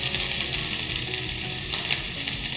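Onions and other ingredients sizzle steadily in a hot pot while a spoon stirs through them, a continuous close frying hiss with no talking.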